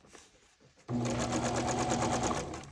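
After a quiet moment, a sewing machine stitching paper for a junk journal starts up close and runs in a fast, steady whirring chatter before slowing slightly at the end.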